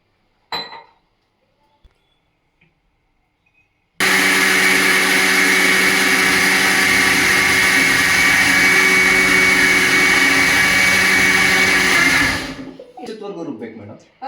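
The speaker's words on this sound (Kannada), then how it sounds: "ಎರಡರಿಂದ ಮೂರು ನಿಮಿಷ ರುಬ್ಬಿದ್ರೆ ಸಾಕಾಗುತ್ತೆ" A mixer grinder grinds soaked rice with salt and water, a loud steady motor whir of about eight seconds, preceded by faint clinks and followed by softer clattering.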